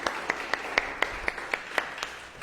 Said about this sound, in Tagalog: pumalakpak ng the best kay Jesus